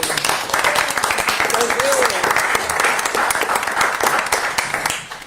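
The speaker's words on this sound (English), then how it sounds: "let's give a big round of applause to Julian." A round of applause fills a city council meeting, dense steady clapping from many hands that runs without a break for about five seconds before tapering off, with a brief voice rising faintly beneath it.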